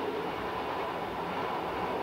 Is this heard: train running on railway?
yes